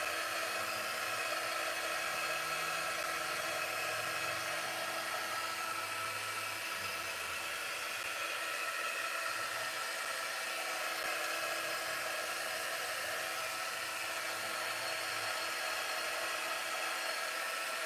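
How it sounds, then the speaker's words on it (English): A handheld craft heat tool drying paint gives off a steady, loud blowing whoosh, like a hair dryer, running continuously without a break and with no talking over it. "I'm just using our heating tool here."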